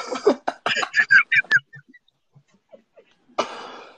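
A person coughs in a quick run of harsh bursts that die away, then gives one more rough cough after a short pause, close and loud.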